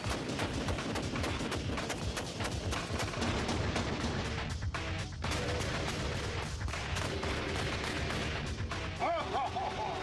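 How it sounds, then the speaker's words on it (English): A 25-millimeter chain gun fires at a steel plate set up as the side of an Iraqi tank, a dense run of loud booming shots with metallic impacts over the full stretch. "I bet it's no match for a 25-millimeter chain gun."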